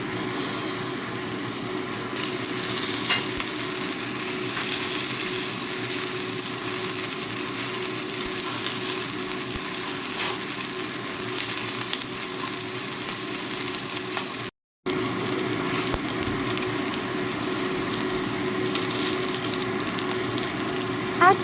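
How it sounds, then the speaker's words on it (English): Beef strips sizzle on a preheated nonstick grill pan for a scallion beef dish, giving a steady, even frying hiss throughout with a brief break midway and no talking. "Preheat nonstick grill pan. Grill 5 to 8 seconds each side."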